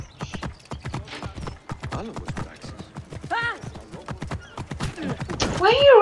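Rapid hoofbeats of a galloping horse in Assassin's Creed Origins, with a whinny rising near the end, busy and fairly loud throughout.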